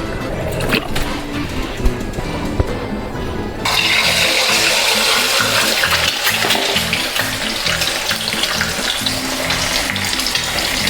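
Eggs frying in a hot pan, a loud, dense sizzle that bursts in suddenly after a quieter stretch and then crackles steadily, close up, with no talk.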